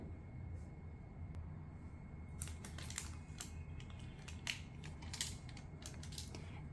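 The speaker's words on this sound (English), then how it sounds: "and then we peel it off." Heat transfer paper is peeled off a shirt in a series of faint, crackly rips and ticks that cluster in the latter half over a low background hum.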